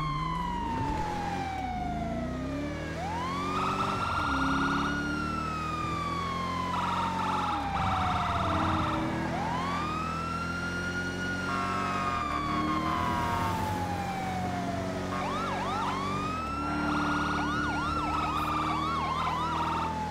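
Several overlapping video game police car sirens wail and yelp together, sweeping up and down in loud continuous cycles with no voices.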